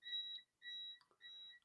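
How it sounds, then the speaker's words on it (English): Three steady electronic beeps from an uninterruptible power supply running on battery backup for a computer, each tone about half a second long with short gaps, clear and close in an otherwise quiet room. "Those beeping noises are the uninterruptible power supply that I run my"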